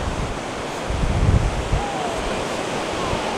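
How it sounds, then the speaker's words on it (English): Ocean surf rolls in at a Sydney beach as a loud, continuous wash of breaking waves, mixed with gusty wind noise on the microphone. "Perfect waves, yeah."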